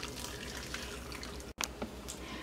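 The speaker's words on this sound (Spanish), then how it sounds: "Hacemos hervir agua y lo vamos a echar agua hervida para quitar un poco las sangres" Boiled water poured over fish spines to rinse away blood in a Peruvian seafood rice preparation, a continuous faint watery splash and trickle with a brief break midway.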